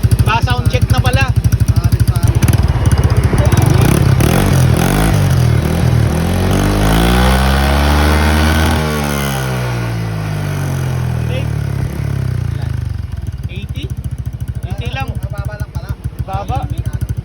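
Motorcycle fitted with an MTRT V3 Silent Killer muffler, exhaust revving up to a loud rising and falling howl and then settling back to a rough idle, close and strong throughout.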